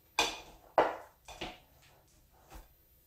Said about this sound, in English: Get the chocolate mixed in.